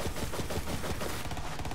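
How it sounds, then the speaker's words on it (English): Pistol fire from the video game Borderlands 3 crackles in a rapid, dense burst of shots, loud and close, lasting under two seconds. "this pistol's so freaking good"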